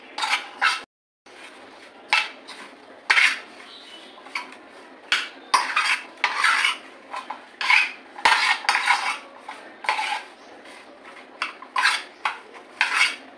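Baby corn tossed by hand-mixing with crushed garlic and chilli powder in a bowl, with no water: a busy run of close metallic clinks and scrapes of a utensil against the dish, in an irregular rhythm with brief pauses.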